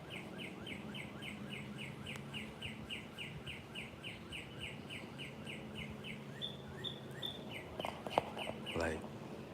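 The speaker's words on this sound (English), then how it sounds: "You hear how the birds chirping." Birds chirp outdoors in a quiet setting, a series of short, regularly repeated high tweets fairly faint against soft background hiss, with a brief rustle near the end.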